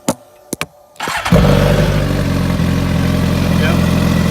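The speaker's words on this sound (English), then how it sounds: "Oops, I gotta start it up." A 2014 Suzuki GSX-R 1000 sport motorcycle with a short aftermarket exhaust is started up. A few clicks and brief cranking lead to a loud catch, then a steady, throaty close idle, with a voice heard faintly near the start.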